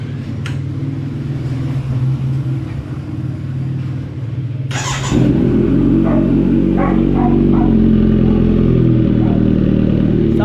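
A Kawasaki Z900SE motorcycle fitted with an AustinRacingPipe exhaust idles loudly, then after a sharp blip settles into a deeper, louder steady rev close by.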